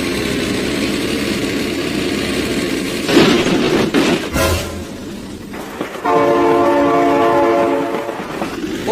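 A train rolls past with a loud, sustained horn blast near the end, following steady rumbling and rail noise up close.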